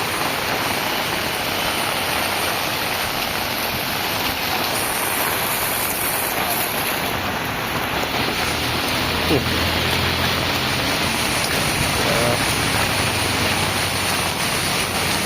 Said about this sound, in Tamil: அதிலேருந்து மழை வச்சு செய்யுது.